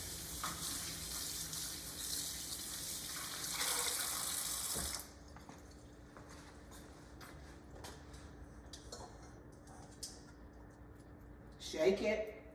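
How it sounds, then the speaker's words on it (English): Tap water running into a kitchen sink during hand washing while baking a German chocolate cake, a steady broadband rush for about five seconds that then cuts off, followed by quieter clatter and a brief clunk near the end. "Wash my hand again."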